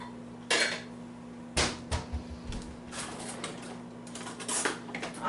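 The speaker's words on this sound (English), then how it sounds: "Get my measuring cup." A measuring cup and dishes are handled in a home kitchen while jello bars are being made. A few separate clinks and clatters of glass and utensils sound over a steady low hum, close and fairly soft.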